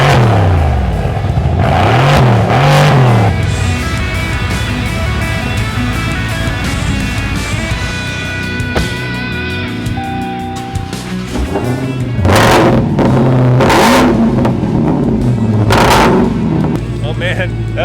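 A powerful engine revs hard through a loud exhaust, surging in bursts with roaring, crackling peaks, fairly close and sustained.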